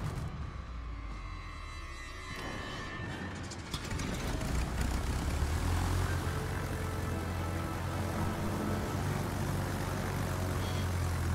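Fighter aircraft taking off in a naval combat video game, a steady loud jet engine roar that swells after a few seconds and holds as a dense broadband rumble, with no talk.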